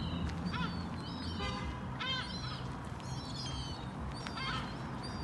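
Ducks quack among gulls and pigeons in a busy outdoor park setting, several calls scattered over steady crowd and ambient noise at moderate distance.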